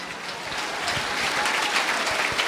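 A church congregation breaks into strong applause, a dense wash of many hands clapping together, steady and fairly loud throughout the short stretch with no voices over it.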